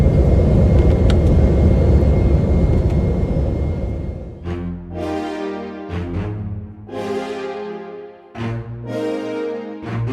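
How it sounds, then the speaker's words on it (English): An Air Dolomiti regional airliner accelerates down the runway for takeoff from Venice, a loud steady engine roar in the cabin that later gives way to bright, broken tonal bursts. "we're heading down the runway to take off now"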